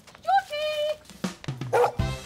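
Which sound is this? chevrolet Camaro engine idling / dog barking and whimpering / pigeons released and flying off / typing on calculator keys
dog barking and whimpering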